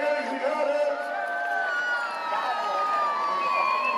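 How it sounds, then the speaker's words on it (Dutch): Crowd cheering and whooping in applause for the rescue brigade at the Breda illuminated boat parade, a steady, dense wash of voices from many people that holds for the whole stretch. "Echt een duidelijk applaus voor de reddingsbrigade"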